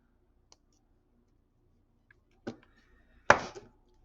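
Wire cutters snipping off the wire tail on a turquoise and silver necklace, a few faint ticks and then a couple of sharp close clicks near the end in an otherwise quiet room.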